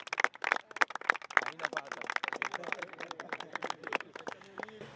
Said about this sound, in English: Hand of applause.